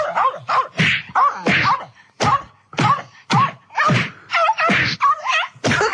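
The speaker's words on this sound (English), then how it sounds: "That's someone beating up a dog." Comedy sound effect of a dog being beaten: a series of about a dozen sharp thuds and whacks mixed with short yelps and barks, close and punchy, with brief gaps between hits.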